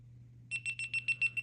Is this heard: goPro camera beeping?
yes